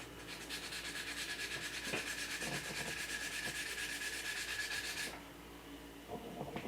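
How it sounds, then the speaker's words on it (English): Wet sanding a small patch of filler on a 1/4-scale Xionart Spiderman figure, a steady close rubbing scrape that keeps going for about five seconds before stopping. "I usually don't wet sand filler, but this is just a small spot."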